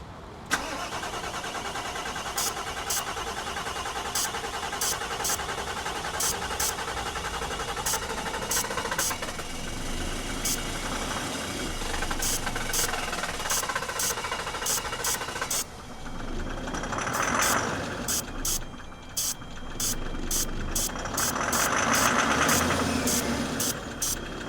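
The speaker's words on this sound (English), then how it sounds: "how I'm not flooding the motor with a bunch of starting fluid" A car engine primed with starting fluid cranks with a steady rapid whirring, catches and settles into a rough, knocking idle, loud and close with no talk.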